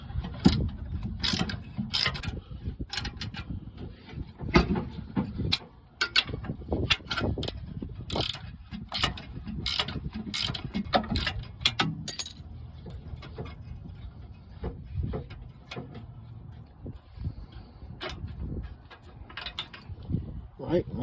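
Ratcheting and clanking of tools as an exhaust spring bolt is removed from a 2006-2011 Honda Civic, with repeated rapid clicking bursts and metallic knocks and a voice speaking at times.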